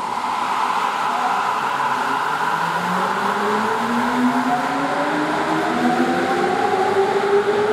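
A Sapporo subway train pulls out from platform 2, its motor whine rising steadily in pitch with a constant rumble, fairly loud and close, with no voices.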